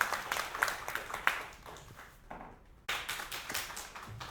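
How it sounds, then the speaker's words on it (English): Audience applause after a presentation, scattered hand claps forming a moderate patter that dips briefly mid-clip before resuming, heard fairly close in a room. "Let's give her a round of applause."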